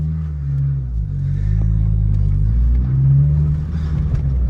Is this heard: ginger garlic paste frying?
no